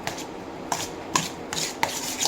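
A mayonnaise and paprika sauce is stirred in a bowl, giving a few rhythmic scraping, rubbing strokes with soft knocks, close and without talk.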